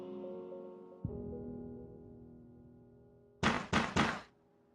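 Three loud, quick knocks hit a door, close and heavy, after a sustained low musical tone fades beneath them.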